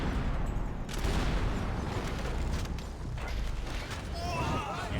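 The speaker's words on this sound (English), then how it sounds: "Oh, now I have the shotguns." Shotgun fire in Max Payne 3, a dense run of loud blasts and clattering mechanical action over busy game noise, with speech mixed in.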